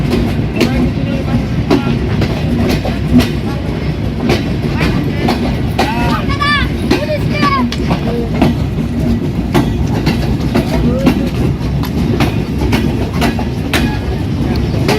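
The Chitra Express passenger train rolling into a station, a loud, steady rumble of wheels with rhythmic clickety-clack over the rails and brief squealing in the middle, close and continuous, with voices faintly underneath.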